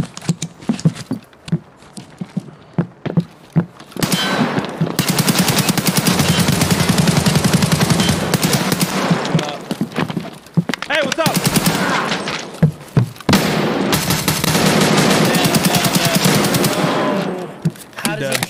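Sustained automatic gunfire in the online shooter Escape from Tarkov, with long dense bursts of rapid shots, loud and close, separated by short gaps and scattered single reports.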